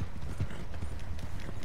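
Horse hooves clip-clopping in the Red Dead Redemption 2 video game, a steady close trotting rhythm of repeated low thuds running throughout, with a faint snort or whinny mixed in.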